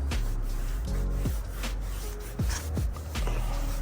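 Tire shine dressing worked onto a car tire by hand, repeated close rubbing and scrubbing strokes with squeaky swipes in an uneven rhythm, loud and steady with no talk.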